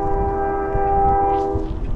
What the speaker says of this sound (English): Lay on that horn. Give me a horn show. Lay on that horn.